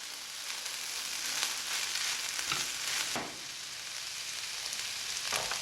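Chicken and vegetable brown rice warms in a frying pan with a steady, moderate sizzle, broken by a few soft scraping stirs of the spatula; no one speaks.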